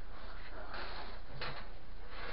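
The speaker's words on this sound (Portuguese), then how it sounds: "Aí eu abro a porta." A house door is opened indoors, giving a soft latch click and brief scrape at close range over low background noise, with no talk.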